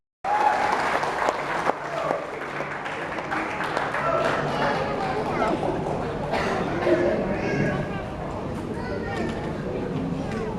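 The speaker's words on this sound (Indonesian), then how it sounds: "dipersilakan beri tepuk." Audience applause fills a hotel function room at an MPR RI Four Pillars outreach event as a moderator is welcomed, steady dense clapping with crowd murmur and some voices throughout.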